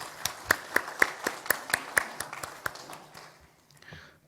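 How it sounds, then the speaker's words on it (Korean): A church congregation at a Sunday worship service claps together in a sharp, fairly even rhythm that loosens and fades out toward the end, heard at a moderate distance in a reverberant hall. "우리 같이 박수 한번 하겠습니다"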